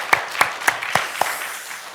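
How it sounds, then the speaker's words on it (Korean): Church congregation at a Sunday service claps in a slow, regular rhythm, five distinct, evenly spaced claps that ring briefly in the room before fading. "큰 영광의 박수 우리 하나님께 올려드리도록 하겠습니다"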